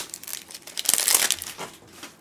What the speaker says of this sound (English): Now then, we have to bust the cellophane.